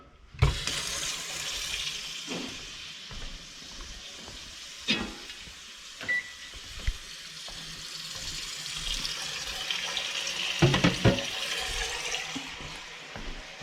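A kitchen tap runs into a sink to soak food, a steady rushing splash with shifting clatter and knocks as items move in the water, fairly close and continuous with no talking.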